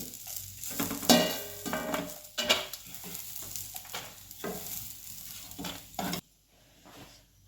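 Finely chopped onion fries in a pan while it is stirred, a hissing sizzle broken by scraping strokes and spoon clinks at an uneven rhythm. The sound drops away sharply near the end.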